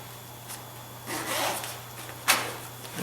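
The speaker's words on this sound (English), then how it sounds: "And it zips right up." A backpack shoulder-strap phone pocket is zipped shut over a phone in a few short, scratchy zipper pulls, close and fairly quiet, with one sharper final rasp.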